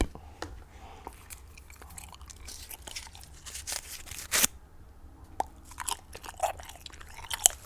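Gum being chewed up close, with soft wet smacks and crunchy bites in an irregular rhythm, plus scattered crinkles and sharp clicks; quiet and intimate, with no talking.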